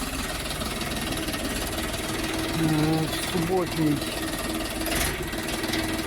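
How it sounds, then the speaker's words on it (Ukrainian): A Bulat 244 tractor with a flat-deck body idles and rumbles at a tractor yard, its engine droning steadily and close under a voice. "Іде грузочка 244-го булата з мотором з рівною підлогою"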